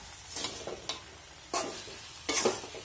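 Amla gooseberries tossed and stirred into powdered sugar give several short, scraping, gritty swishes in quick separate bursts, close and fairly quiet.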